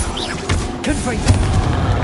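Confringo spell blasts in Hogwarts Legacy combat: booming impacts and crashes land amid a busy fight, loud and close, with a voice talking over them.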